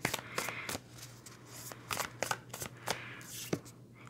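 Tarot cards shuffled and handled, then the last card drawn from the deck: a run of crisp, close papery flicks and slaps in uneven bursts over a steady low hum, with no voices.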